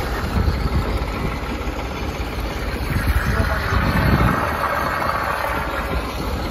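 A New Holland tractor engine idles steadily at close range, a continuous low rumble that rises slightly in the middle, with faint background talk.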